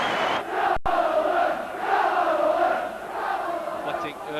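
Football crowd at an Oldham Athletic match during their 1990/91 Second Division championship season, a dense roaring swell of voices cheering the team on, loud and sustained, rising and falling.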